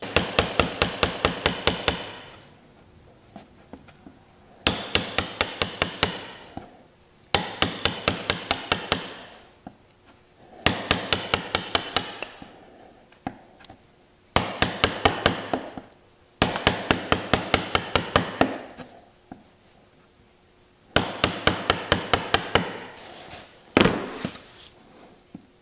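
Rapid bursts of sharp hammer taps, several groups of quick strikes separated by pauses, as small hinges are fitted to a jewelry armoire; close and crisp, with no talk.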